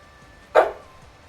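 A single short dog bark, fairly close and clear, standing out briefly against quiet background noise.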